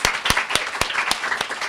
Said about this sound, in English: One more round of applause for all the poets,